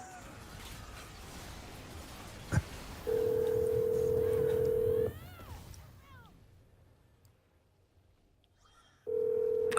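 A telephone rings out on the line unanswered: two long steady ring tones separated by a pause, clear and fairly loud, after a brief click.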